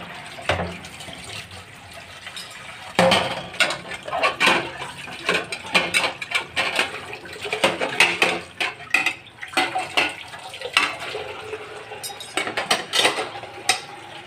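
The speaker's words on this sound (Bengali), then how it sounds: "এদিকে আমি থালা বাসন ধুয়ে আবার আসলাম আর কি" Dishes, pots and pans being washed at a kitchen sink: running tap water under repeated clinks and clatters of plates, cutlery and metal pans, close and fairly loud, with no talking.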